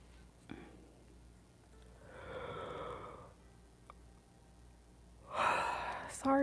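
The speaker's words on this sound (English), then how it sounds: "Sorry guys, I'm yawning." A person yawns during an astrology reading, giving two drawn-out breathy exhalations a few seconds apart, the second one louder and ending in a voiced tail. Room tone is quiet in between.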